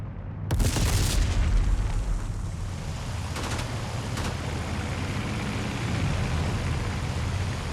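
Bombs explode in the IL-2 Sturmovik flight combat game during an air raid with heavy anti-aircraft fire. A sharp, loud blast opens over a steady engine drone, followed by a couple of fainter cracks.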